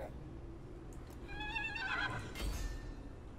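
A horse in the Total War: Warhammer video game gives one clear, wavering whinny midway, over a low game soundscape with faint hoof-like thuds.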